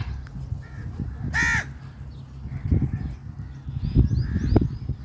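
A single harsh crow caw rings out over steady outdoor rumble and rustling, with faint thumps and distant noises around it.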